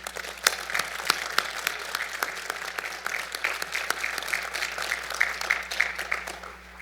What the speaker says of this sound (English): If we could have a round of applause for the graduates